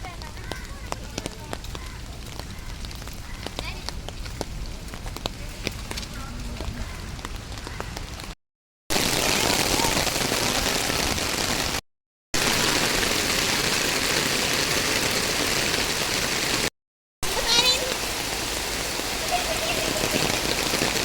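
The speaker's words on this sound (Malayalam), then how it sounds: "മഴ പെയ്യുമ്പോ ഇതാണ് അവസ്ഥ ഗൈസ്" Heavy rain pours down around a home, a dense, continuous roar broken by a few brief cuts, with a voice talking faintly beneath the downpour.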